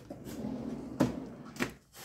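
A drawer slides open in a small woodworking shop, a rumbling wooden scrape with two sharper knocks as it moves and stops, close by with no talking.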